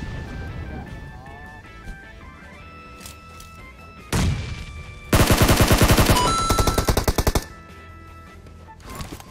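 Gunfire in the video game Sausage Man: a heavy boom, then a loud, rapid burst of automatic fire lasting a couple of seconds before fading into scattered shots and game ambience, with a voice talking.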